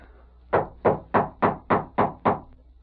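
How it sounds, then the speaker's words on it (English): Seven firm knocks on a door ring out in an even, evenly spaced rhythm for a radio drama, each one close, hollow and sharp, followed by quiet with no voices. "Who's at the door?"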